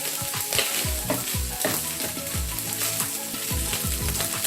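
Nigerian fried rice being stirred in a pan while it fries, a steady sizzle under repeated scraping strokes of the spoon, close and loud, with no talking.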